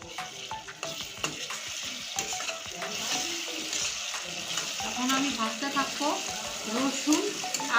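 Onion and garlic paste frying in a pan for chicken curry gives a steady close sizzle, with a spoon stirring and scraping now and then, and faint background voices.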